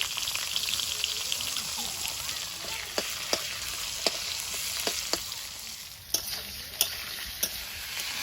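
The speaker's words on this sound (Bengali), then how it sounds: "ওই তেলের মধ্যে দিয়ে দিচ্ছি কালো জিরে যেটা কাঁচা লঙ্কা" Nigella seeds and green chillies sizzle in hot oil in a home kitchen, a steady close frying hiss broken by sharp spoon clicks against the pan.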